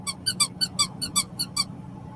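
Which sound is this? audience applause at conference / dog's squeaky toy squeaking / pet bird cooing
dog's squeaky toy squeaking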